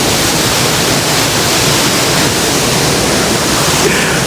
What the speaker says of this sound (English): the waterfall in Rio Celeste.